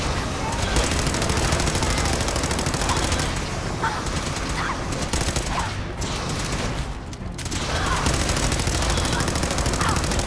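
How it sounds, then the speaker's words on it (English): Fallout 4 Gatling laser firing in a dense, continuous rapid buzzing stream for about ten seconds, loud and steady with brief dips, with no speech over it. "Gatling laser on one of them."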